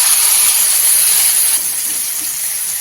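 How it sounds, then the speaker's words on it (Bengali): A bowl of water goes into a pan of cooking vegetables, bean seeds among them, and sets off a loud, steady steam hiss that eases slightly partway through and keeps sizzling to the end. "এবার এই সবজির মধ্যে আমি দিয়ে দেবো 1 বাটি জল।"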